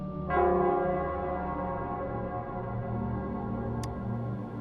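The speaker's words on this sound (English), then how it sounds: "it's the Nell Squares bell." A town square bell in the Wuthering Waves video game rings once with a bright struck onset, its tone humming and slowly fading over a steady low ambient drone, with no voices.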